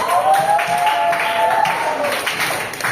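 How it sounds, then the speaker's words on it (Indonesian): Applause from a classroom group during a guidance lesson, a dense patter of clapping running steadily for a few seconds with a tonal whistle-like sound or voice drifting through it. "Tepuk tangan untuk kita semua"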